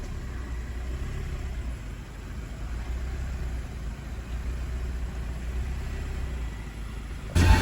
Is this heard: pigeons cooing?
no